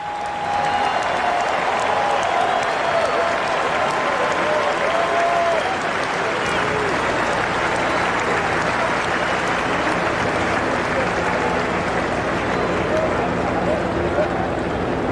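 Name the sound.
ballpark crowd applause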